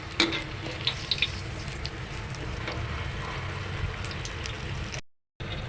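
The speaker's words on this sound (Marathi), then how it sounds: "पलटवा जास्तही फ्राय करू नका कारण का आतमध्ये चीज आहे म्हणून थोडंसं गोल्डन ब्राउनिश होऊ द्या" Cheese-stuffed chili pakoda frying in hot oil gives off a steady, close bubbling sizzle throughout, with a few small pops near the start.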